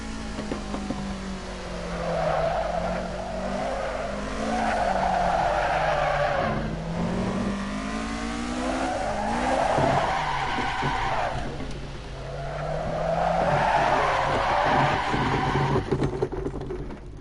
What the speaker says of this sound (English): Having a bit of a drift and ranting about Gran Turismo not working properly.